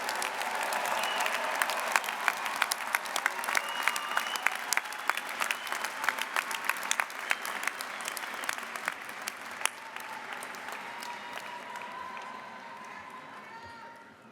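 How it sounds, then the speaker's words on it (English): University commencement audience applauding graduates: a sustained, dense round of clapping from a large crowd lasting about fourteen seconds, gradually thinning toward the end. "Let's have one more final round of applause for all of our graduates today."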